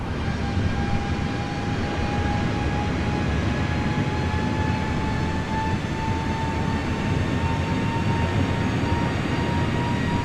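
Airbus A350 engines at climb throttle in Microsoft Flight Simulator: a steady, loud jet roar with a constant whine running through it, unbroken for the whole stretch and free of any talk.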